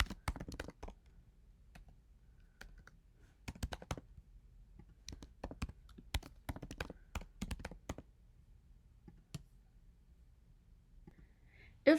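Keys clicking on a computer keyboard as an email address is typed, quiet and close, in short irregular bursts with pauses between them.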